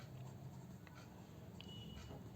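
Writing out the solution to a Class 6 perimeter word problem, heard as faint, soft scratchy strokes under a quiet background, with no talking.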